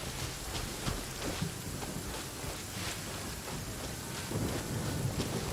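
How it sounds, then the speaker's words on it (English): Rain and thunder in the video game Genshin Impact: dense, steady rainfall hiss with soft, rolling thunder rumbles underneath, filling the scene without voices. "You can barely hear the music when it's rain like this on this game."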